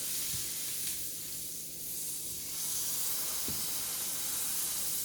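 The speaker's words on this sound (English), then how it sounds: "So we'll continue to sear this a little bit." A steak sears in a hot pan, giving a continuous soft hiss and sizzle that stays fairly quiet and steady, with a couple of faint low knocks.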